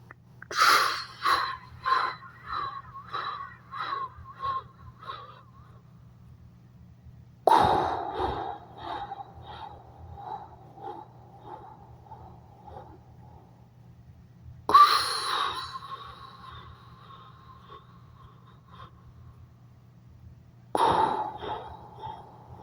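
Rhythmic breathing demonstrated during movement, with four bursts of quick, repeated huffing breaths separated by pauses, each burst starting loud and fading, close and alone with no talk.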